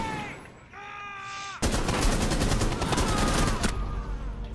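Sustained automatic gunfire from Rainbow Six Siege, a loud dense burst of rapid shots lasting about two seconds after a short tonal game sound, with faint voice chat underneath.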